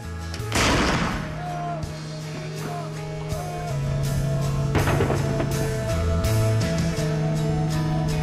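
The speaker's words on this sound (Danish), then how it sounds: "fra Kronborg hilses dronningen igen med 27 skud" Booming 27-shot cannon salute for the Queen fired from Kronborg Castle at Helsingør rolls out at intervals over a low sustained background, distant and reverberant, with no clear talking.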